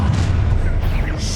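A Confringo fire spell explodes in the Hogwarts Legacy video game, a loud, dense low boom that rumbles continuously through the moment with a crackling tail.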